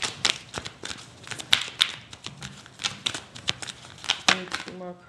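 Tarot cards being shuffled by hand: a close run of crisp, rapid flicks and taps, ending in a brief riffle, with a voice speaking alongside.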